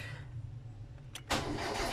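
Car starter engaged with the ignition on: a brief click, then the engine cranks with a loud, rough burst that carries on to the end.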